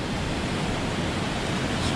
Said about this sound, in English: the water's just flowing over all this area